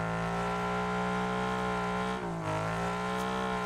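Nissan S15 drifting in Torque Drift 2, its engine holding a loud, steady high-revving drone with dense harmonics and a brief dip in revs partway through, no talk over it.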